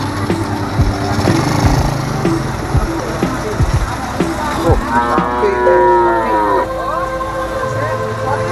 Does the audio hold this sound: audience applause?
no